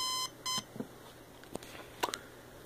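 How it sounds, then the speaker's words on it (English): A vintage Spartus model 1172 alarm clock rings with two short, loud buzzing bursts, followed by faint clicks and handling knocks in a quiet room. "and there's the alarm."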